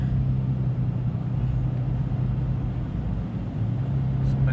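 Freeway traffic rumbles steadily past, a loud, continuous low drone of cars and heavy vehicles with no clear gaps between them.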